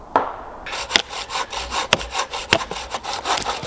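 Wood being processed at a woodland wild camp in winter, with close, rhythmic rasping strokes of a saw or blade through timber, several sharp scraping bursts in quick succession.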